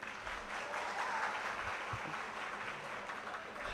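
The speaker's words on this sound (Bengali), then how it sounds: "আমরা একসাথে আপনাদের জন্য এবং ছাত্র শিবিরের জন্য আমরা ডাকসুর পক্ষ থেকে করতালি দিচ্ছি" Audience applause fills a university event hall at Dhaka University, a continuous even clapping from many hands, heard fairly distant and soft.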